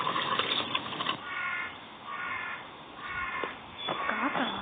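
Crows caw in a horror video game called Pumpkin Panic, giving repeated harsh calls in bursts separated by short gaps against a muffled background.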